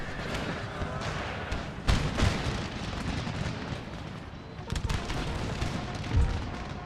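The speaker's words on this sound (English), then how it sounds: "Artillery, fire on the cavalry. Howitzers, fire on the cavalry." Artillery and howitzer batteries fire in an Empire: Total War battle, booming in repeated loud blasts over a continuous roar of battlefield noise and distant musketry.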